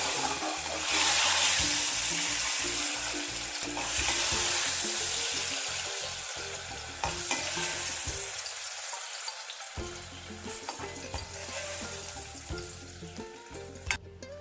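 Hot tempering poured into ripe mango pulisseri, a Kerala mango curry, sets off a loud, close sizzle and bubbling that runs on with stirring clatter, breaks off for a moment of quiet, then comes back and fades out.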